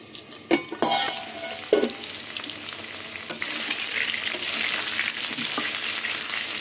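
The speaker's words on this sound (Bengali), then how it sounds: "গ্যাসের আগুনটা কমিয়ে আলুটা ভালো করে ভেজে নেব আর ভাজতে ভাজতে আলুটা সেদ্ধ হয়ে যাবে" Salted potatoes fry in a pan over a low gas flame, a steady broadband sizzle that swells and holds after a few sharp clinks and stirring knocks near the start.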